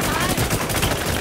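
Rapid automatic gunfire from a first-person shooter video game, a dense loud burst of shots lasting about a second, with a voice talking over it.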